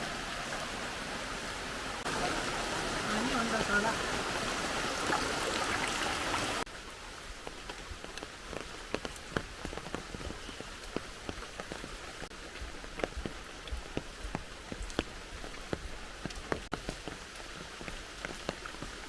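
Steady rain pours down outdoors on an evening that has already grown dark, a loud dense hiss for the first several seconds that then eases into a lighter patter with scattered distinct drips.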